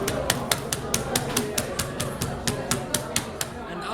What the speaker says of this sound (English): we start gently hammer the layer, not very hard, just to prepare it